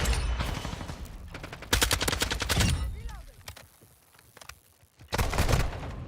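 Bursts of 7.62 rifle fire in Modern Warfare 2, several rapid loud volleys separated by short gaps, with a quieter stretch of talk between them.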